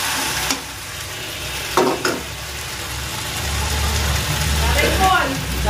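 Boiled lentils (dal) being stirred in a cooking pot at home, a few soft scraping strokes over a steady low background hum.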